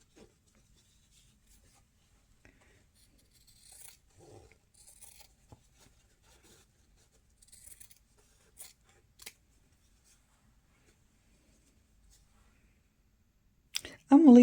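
Scissors snip a small piece of material, quiet scattered cuts and rustles in an otherwise near-silent space, ending with a louder handling noise.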